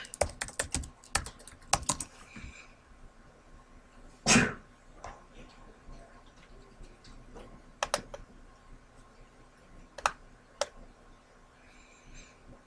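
Scattered keystrokes on a computer keyboard, a few quick clusters at first, then isolated taps spaced seconds apart, fairly close but quiet over a low room hum.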